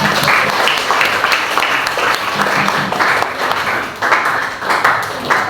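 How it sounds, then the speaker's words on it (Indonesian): Students in a classroom applaud a student group, a loud close-up patter of many hands with rhythmic surges as clusters of clappers fall briefly into unison. "Tepuk tangan buat kelompok 3 ya."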